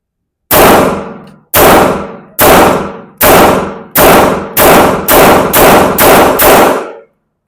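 Grand Power Q100 full-size pistol fired at a shooting test: ten loud, sharp shots, spaced evenly at first and then quickening into a steady rapid string, each with a short ringing tail and no talk.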